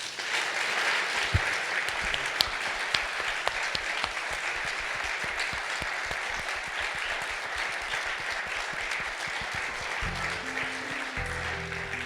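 An audience at a talk applauds Bob Morgenthau with sustained, dense clapping that stays steady throughout, and a voice speaks briefly near the end.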